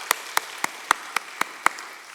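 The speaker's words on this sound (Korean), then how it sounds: "하나님께 영광의 박수 올려드렸고요" Congregation in a church giving a short round of applause at a Korean early-morning service, heard as seven separate claps spaced evenly, each a sharp isolated crack with quiet room in between.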